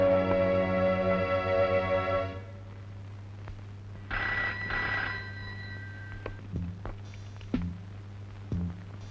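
An old-style telephone bell rings loudly in a continuous burst for about two seconds, then stops, leaving a quiet room with faint steps and small knocks.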